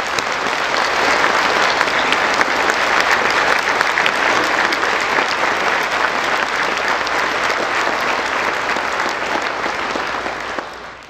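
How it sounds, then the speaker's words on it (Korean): A large audience at a Korean national prayer breakfast gives sustained, dense applause, loud and steady for about ten seconds before tapering at the end, with no speech over it. "우리 대통령님과 김건희 여사님께 다시 한번 박수 부탁드리겠습니다"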